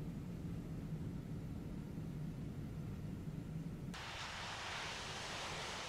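Airliner thrust reversers at full on a Captain Sim 767 in a flight simulator, a loud, steady roar of broadband noise that suddenly brightens into a harsher hiss partway through, with no talk.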